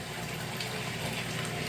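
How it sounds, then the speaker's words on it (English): Water from an aquaponics sump pump rushes out of a tub in a steady, close, even gush that runs unbroken from start to finish. "All the water is going back out of the tub."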